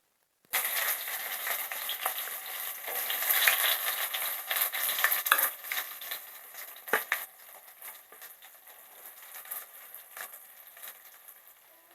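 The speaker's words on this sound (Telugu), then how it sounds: "ఆనియన్స్ లైట్ గోల్డెన్ కలర్ వచ్చేంత వరకు ఫ్రై చేసుకోవాలండి" Onions and green chillies sizzle steadily in hot oil with shahjeera, bay leaf and dried red chillies for a chicken gizzard fry, a close, bright hiss broken by scraping stirs, no voices.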